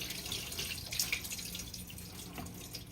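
Water being poured off saltfish after rinsing it in a kitchen, a steady running splash with a few drips, moderately close and continuous throughout, with no voices.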